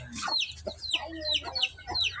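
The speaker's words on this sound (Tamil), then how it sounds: "அந்த கோழி வந்து குஞ்சு கொடுக்க தெரியுது." A hen clucks near her newly hatched chick outdoors, a run of five or six close, rhythmic, high clucking calls over a faint background hum.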